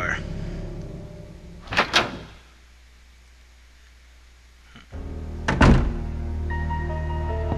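A door swings open in the survival horror game Resident Evil 2. Two separate thunks a few seconds apart are separated by near silence, and the second one is heavier, under the low hum of in-game ambience.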